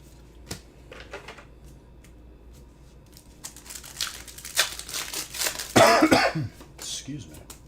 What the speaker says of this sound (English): This stupid cough.